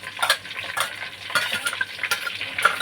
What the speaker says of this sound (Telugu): మసాలా దినుసులు అవి వేగిన తర్వాత ఉల్లిపాయలు కూడా వేస్తున్నానండి.